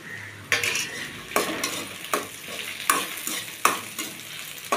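Garlic sautés in a hot pan while a spatula stirs, bringing steady sizzling punctuated by regular sharp scrapes about every 0.8 seconds, close and without talk.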